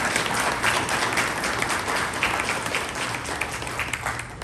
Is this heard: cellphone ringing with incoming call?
no